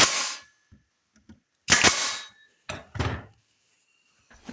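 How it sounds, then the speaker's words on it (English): Several sharp pneumatic nailer shots driving finish nails into a pine planter box, loud cracking bangs separated by silences, each with a brief hiss of air, plus a couple of faint clicks. "I glue and shoot some finished nails into the front little box."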